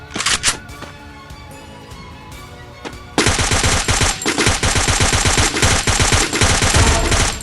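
Automatic gunfire from the Free Fire video game: a few scattered shots at first, then a loud, sustained volley of rapid bursts that continues to the end.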